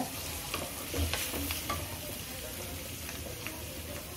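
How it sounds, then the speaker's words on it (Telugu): Onions fry in a pan with a steady, quiet sizzle, close by, broken by a few soft stirring scrapes. "ఉల్లిపాయ ఇలా కొద్దిగా వేగిన తర్వాత"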